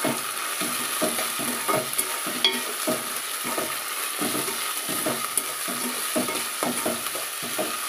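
Ginger garlic paste fries slowly in oil, a steady close sizzle with repeated scraping strokes of a spoon stirring through the paste in a rhythmic pattern.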